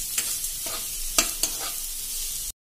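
Finely chopped onion sautéing in a pan for rava upma, soft sizzling under a few sharp spoon scrapes and stirring clicks, fairly close, ending in abrupt silence.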